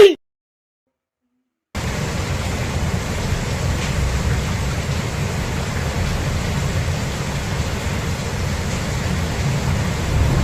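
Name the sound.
rain falling, from a video game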